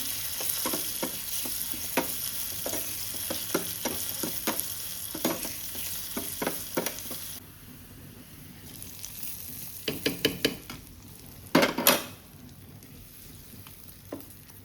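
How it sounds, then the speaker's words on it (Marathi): Garlic sizzles and crackles steadily as it fries in oil for a tempering, with spoon stirring clicks; the sizzle drops back, then a few sharp clatters follow. "लसणीची फोडणी घालूंक जाय"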